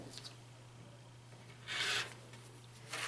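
Quilt fabric being trimmed a quarter inch from the seam: one short, soft rasping cut near the middle, with another brief scrape at the end, over a faint steady hum in a quiet room.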